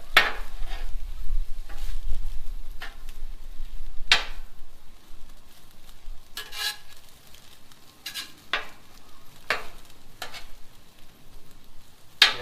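Broccoli, spinach and green onions cook on a Blackstone griddle, a soft continuous sizzle broken by scattered scraping and tapping strokes of a spatula, fairly close and without talk.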